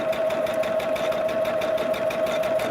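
A sewing machine runs steadily, stitching a paper foundation onto fabric for a star-patterned table runner, with a close, continuous fast mechanical whir and rapid needle chatter at an even pace throughout.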